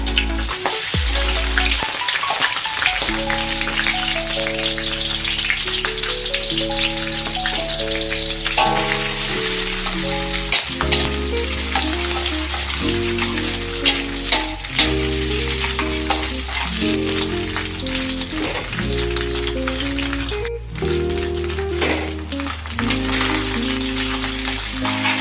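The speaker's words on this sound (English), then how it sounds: "Now I'm going to fry the luncheon meat." Luncheon meat frying in a pan, a steady loud sizzle and crackle that runs throughout, with background music playing over it.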